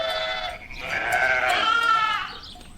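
A single loud, close sheep bleat wavers for nearly three seconds and fades at the end, with no voices present.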